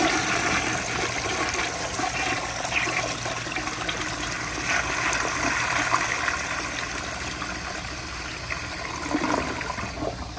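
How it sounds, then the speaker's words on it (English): A 1942 Standard Modernus toilet on a flushometer valve flushes with a loud, close, continuous rush of water that churns steadily for about ten seconds without easing off. "So here's the flush."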